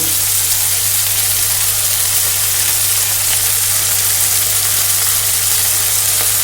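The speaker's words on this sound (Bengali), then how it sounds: "এই বাটা মশলাটা কিন্তু এবার এই টমেটো পেঁয়াজ কষার মধ্যে কিন্তু অ্যাড করে দেব।" Ground spice paste frying in a pan with tomato and onion for a cauliflower and potato fish curry, giving a steady loud sizzle with a low hum underneath and no speech.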